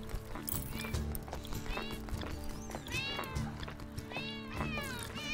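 Several cats meow repeatedly in the video game Crossroads Inn, rising and falling cries overlapping one another, alongside clip-clopping hooves and a soft game music bed, with faint speech in places.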